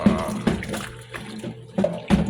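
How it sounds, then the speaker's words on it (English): Water sloshes and splashes in a sink while dishes are washed by hand, in short irregular bursts close by, with quieter gaps between them and no talk. "I'm actually washing dishes"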